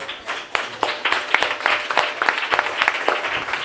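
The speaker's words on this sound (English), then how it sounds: "Can you join me and give them another round of applause?" Audience clapping at a book launch, a close, moderately sized round of irregular individual claps building in density for a few seconds with almost no talk.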